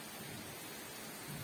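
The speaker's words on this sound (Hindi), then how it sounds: "देख कितनी तेज बारिश हो" Heavy rain pours down steadily in a constant dense wash of noise, close and enveloping, with no voices.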